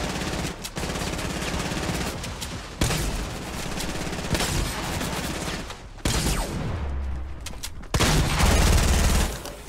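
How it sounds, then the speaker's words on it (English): Rapid, loud gunfire in the Fortnite video game, with dense continuous bursts of shots and heavy booming impacts filling the whole stretch, close and intense. "Someone was shooting me over here, I'm pretty sure."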